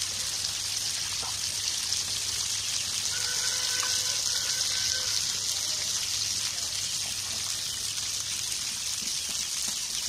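Apple water, about a kilo or one and a half bottles, is poured into a cooking pot as a dish simmers: a steady, continuous gushing splash throughout, moderately loud, with no talk.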